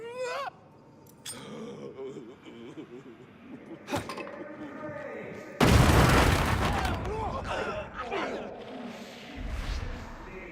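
A grenade thrown in Warhammer 40,000: Darktide bursts into a loud, sudden blast midway, followed by a rumbling, crackling tail under ongoing game voices and effects.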